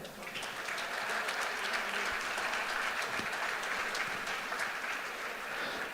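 A crowd at a high school boys basketball senior night applauds the Titusville seniors: continuous, even applause at a moderate level with a faint voice or two beneath it, lasting the whole stretch.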